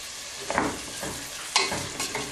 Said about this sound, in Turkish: Soğan şeklini kaybedene kadar kavuruyoruz.